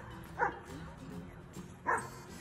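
A dog gives two short, sharp yipping barks about a second and a half apart, fairly faint against quiet indoor background noise.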